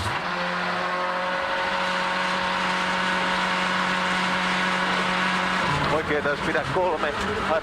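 A Mitsubishi Lancer rally car running down on power from wrong gear ratios at Rally Finland 2005, heard as a loud, steady engine drone that wavers near the end as a commentator's voice comes in.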